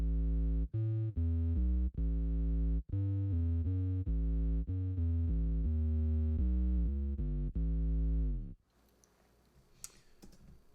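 Electric bass run through a Line 6 Helix set for a Boss OC-2 octave tone, playing a steady sequence of thick, sustained low notes with a doubled octave-down body for about eight seconds before stopping, leaving faint handling noise.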